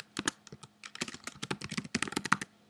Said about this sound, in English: just type in the password, anything you want